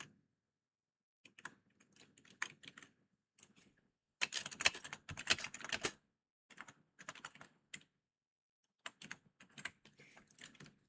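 Computer keyboard typing in bursts of rapid clicks separated by pauses, with a dense, louder flurry in the middle, close and clear with no talking.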